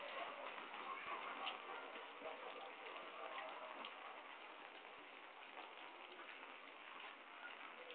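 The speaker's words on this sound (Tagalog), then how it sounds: "Grabe ang ulan sa Pilipinas." Heavy rain in the Philippines pours steadily, a dense hiss of drops on surfaces with a few sharper ticks, continuous and fairly close.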